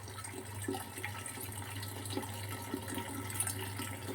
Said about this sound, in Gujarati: હું ફિલ્ટરનું પાણી જે ભરવાનું હોય છે આપણે ફ્રેશ વોટરનું એમાં ભરી લઈશ